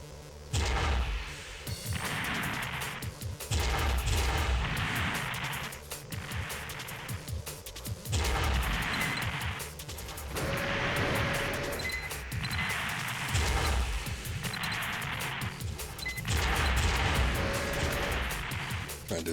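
Mech weapons in Armored Core: Project Phantasma fire in heavy repeated bursts, roughly every two seconds, each a booming low thump with a hissing blast tail, over continuous mechanical noise.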